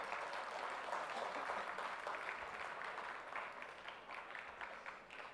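Audience in a conference hall applauding at the close of a session, a dense steady wash of many hands clapping that holds throughout and tapers slightly toward the end.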